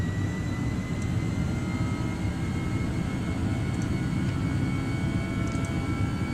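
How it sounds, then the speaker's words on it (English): Airbus A318 jet engines of an Air France airliner in flight on a Paris to Vienna route in Microsoft Flight Simulator 2020, a steady broadband roar holding even and loud throughout, with no speech over it. "And listen to the engines."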